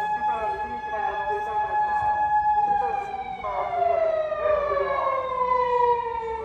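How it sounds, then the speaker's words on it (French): An emergency siren in a Japanese side street lined with spare parts, wailing loudly with long sweeping tones that rise and fall, steady and fairly near, while people talk over it. "Elle est marrante la sirène."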